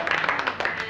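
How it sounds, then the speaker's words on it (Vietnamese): A few people clap at a birthday gathering in a comedy sketch, producing a quick run of sharp, close claps under a voice talking over them. "Các bạn vỗ tay."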